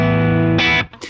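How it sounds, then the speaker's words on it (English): A dry electric guitar chord rings out loud and sustained, then a brighter second strum cuts in and quickly stops, with no voices. "Now it's a good dry guitar sound,"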